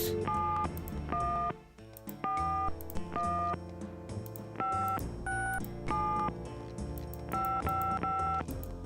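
Telephone keypad tones dialing a number in the adventure game Gabriel Knight: Sins of the Fathers: a rapid run of loud, clean two-tone beeps in short bursts with brief gaps, no voices over them.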